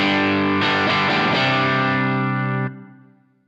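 Electric guitar strums one big open chord through a pedalboard of drive and modulation effects, loud, thick and distorted with a swirling shimmer, ringing out for over two seconds before quickly fading.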